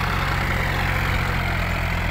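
John Deere 4x4 tractor, a 2022 model rated at about 40 horsepower, idling up close with a steady, even, low diesel throb and a constant drone that continues unchanged throughout.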